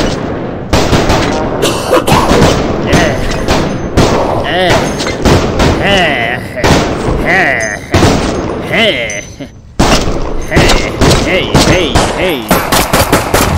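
Rapid bursts of gunfire from a gun in a VR video game ring out loud and near across the whole stretch, with short pauses between volleys and a brief spoken word among them.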